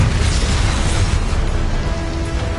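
A Confringo spell explodes in the game Hogwarts Legacy, a loud, booming blast with a rumbling low end that sustains and slowly tails off.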